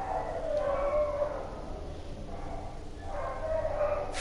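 A dog in a video game gives two high, whining whimpers with soft yips, one early and one near the end, over a steady low ambient rumble.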